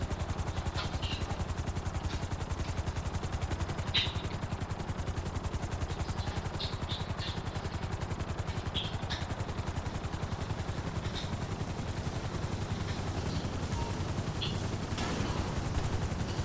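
A helicopter in GTA V Online drones with a steady, fast rotor chop throughout, constant and moderately loud, with faint scattered sounds on top.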